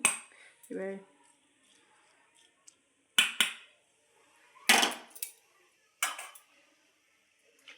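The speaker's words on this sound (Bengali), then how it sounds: "আমার পেঁয়াজগুলো আমি তুলে নিচ্ছি একটা পাত্রে" Fried onions are lifted out of the pan into a container with a metal utensil while cooking chicken biryani, giving a few sharp clinks and scrapes separated by quiet pauses.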